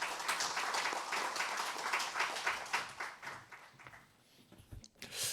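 Attendees at a parliamentary policy forum on industrial accident compensation insurance clap for a lawmaker, a fairly faint spread of applause that thins out and fades near the end.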